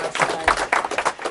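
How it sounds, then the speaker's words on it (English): A short burst of audience applause and clapping after a card trick at a magic show, lasting about a second, moderately loud with uneven claps. "Applause for Scotty."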